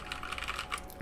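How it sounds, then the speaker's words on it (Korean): Rapid mechanical key clatter from a Ducky ONE TKL tenkeyless keyboard with Cherry MX Brown switches, a dense, close burst of keystrokes with no talking. "타건을 들려드릴게요."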